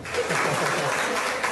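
Applause and cheering for a hospital patient being discharged to go home, a steady wash of clapping from a group close by for a brief moment, with some voices mixed in.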